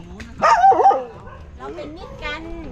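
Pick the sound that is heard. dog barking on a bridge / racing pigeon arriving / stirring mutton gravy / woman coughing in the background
dog barking on a bridge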